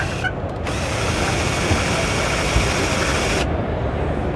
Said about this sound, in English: And you can add a drill to it to kind of speed up that operation.